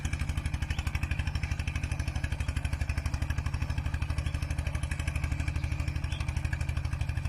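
A Thai-made articulated walking tractor works through boggy, grassy mud in Udon Thani. Its single engine chugs loudly and close in a fast, even, steady rhythm throughout, with no talk.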